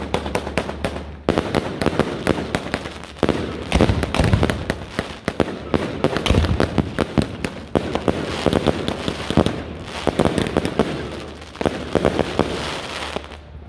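Fireworks and firecrackers set off at night, with dense rapid crackling bursts and sharp bangs close by, continuing in clusters for several seconds while a few voices shout over them in Dutch.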